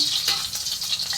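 Onion and garlic frying in cooking oil, a steady bright hiss of sizzling with small bursts, close and continuous for about a second with no voices.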